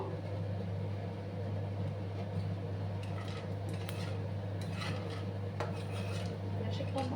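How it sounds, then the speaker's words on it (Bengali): Roasted peanuts being stirred in a pan with a little ghee over low gas flame, a steady scraping and rattling of nuts against the metal with faint clinks, close and continuous over a constant low hum, no talking. "সামান্য ঘিয়ের মধ্যে একটু নাড়াচাড়া করে নিচ্ছি আমি"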